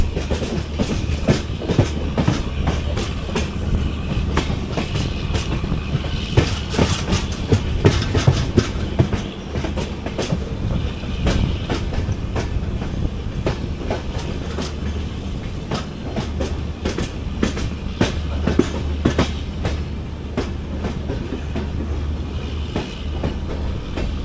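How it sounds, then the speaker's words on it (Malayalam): A Vistadome coach on the 16575 Gomateshwara train from Yesvantpur to Mangaluru runs into Dhoni station, a steady loud rumble with rhythmic clickety-clack of wheels over rail joints, heard from inside without talk. "നമ്മൾ ജസ്റ്റ് ധോണികൾ സ്റ്റേഷനിലേക്ക് എത്തുന്നു."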